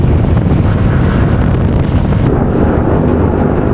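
Heavy rain pouring during a motorcycle ride, heard as a loud, unbroken roar of rain mixed with buffeting wind noise, with no voices.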